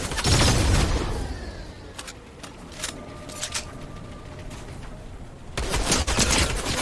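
Gunfire in Fortnite Battle Royale, with dense bursts of loud rapid shots at the start and end framing a sparser stretch of separate cracks and faint pings, no talking.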